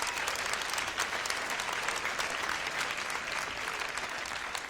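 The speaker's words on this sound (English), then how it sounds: "I'm not looking for applause." Stand-up comedy crowd applauding loudly and steadily throughout, a dense wash of clapping with no pauses, no voice on top.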